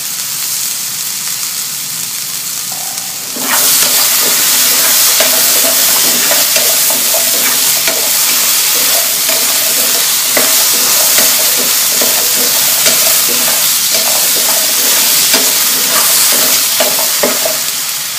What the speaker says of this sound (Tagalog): We will add also a tablespoon of oil to saute our spices.